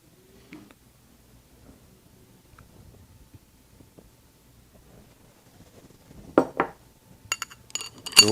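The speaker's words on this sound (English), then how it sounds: "Ice cream scoop." An ice cream scoop serves rice pudding into glasses, starting with a long near-quiet stretch of faint handling, then a few close clinks and scrapes of metal against glass near the end.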